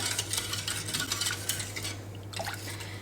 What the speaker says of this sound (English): So I'm going to give it a quick mix to try and make it all blended.